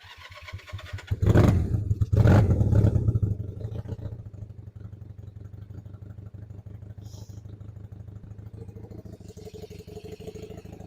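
A Honda CB175 motorcycle engine on choke starts with two loud bursts of revving, then settles into a fast, steady, even idle close by.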